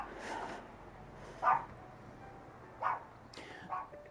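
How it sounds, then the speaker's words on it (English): A dog barks a few brief, faint yips spaced apart indoors, with quiet room noise between them. "Yeah, this time it's Pikachu that's barking."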